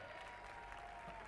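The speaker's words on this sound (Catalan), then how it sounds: "un aplaudiment per en Job" Crowd at a Catalan school rally's closing event clapping for one of the on-stage helpers, a steady dense applause held at a low, distant level with a faint tonal hum running through it.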